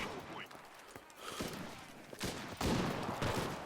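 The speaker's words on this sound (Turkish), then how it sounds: "Çok güzel arkadaşlar silah patlamaları, çatlamaları." Gunfire in the desert battle of the war shooter Enlisted: scattered cracks and bursts of shots, some distant and some close, over a rumbling battlefield backdrop, growing louder and denser toward the end.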